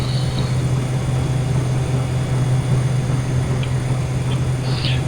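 A Kodiak turboprop engine drones in Flight Simulator X as the plane climbs after takeoff, a steady loud hum with a low tonal buzz and faint higher tones flickering over it.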